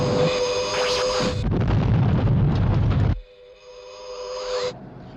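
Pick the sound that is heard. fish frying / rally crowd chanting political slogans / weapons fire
weapons fire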